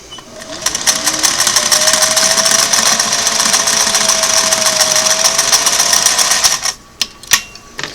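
A Singer 404 sewing machine runs a test stitch, a loud rapid steady whirring rattle for several seconds that stops abruptly, followed by a few sharp mechanical clicks.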